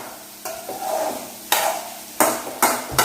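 Onions stirred in a hot pan for semiya upma, several firm scraping strokes of a spoon against the pan over a steady low sizzle, close and loud.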